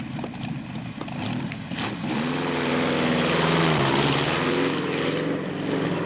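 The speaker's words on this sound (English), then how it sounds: "Powered by the famous 12-cylinder Lion Aero engine." A Napier Bentley racing car powered by a 12-cylinder Napier Lion aero engine roars loudly at a hill climb, its deep, rough drone building and holding steady up close with a rising, shifting pitch midway.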